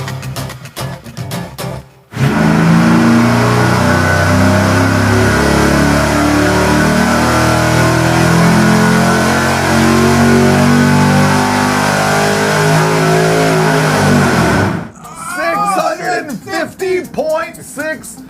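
A stock engine with a supercharger is run hard on a dyno, a loud, sustained roar climbing and holding at high revs for about twelve seconds, with people talking in the noisy room before and after.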